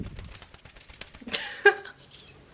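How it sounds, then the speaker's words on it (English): A five-week-old pet homing pigeon flaps its wings in a quick burst of fluttering, followed by a short chirpy call, heard close and moderately loud. "He is a 5-week-old homing pigeon."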